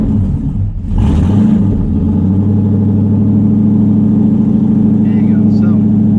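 A car fitted with a VMP TVS supercharger and freshly swapped ID 1000 injectors cranks briefly, then catches and settles into a loud, steady, close idle with a deep rumbling drone.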